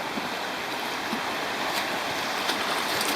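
A river in Tasmania rushes steadily while being crossed on a mountain bike tour, a continuous broadband wash of water with faint splashes and no talk over it.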